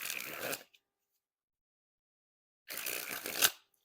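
Two bursts of Cardistry Touch Deep Sea Edition playing cards being sprung from hand to hand, a brief riffling flutter, then a pause and a second longer spring ending in a sharp snap, close and crisp with no talking.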